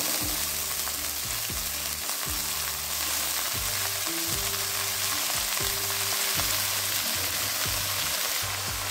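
Chopped radish greens and onion sizzle steadily in a hot pan, a continuous loud frying hiss lasting throughout, with low steady musical tones underneath.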